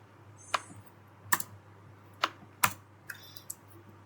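Computer keyboard typing, a handful of separate crisp key clicks spaced irregularly over a low steady hum, close and quiet.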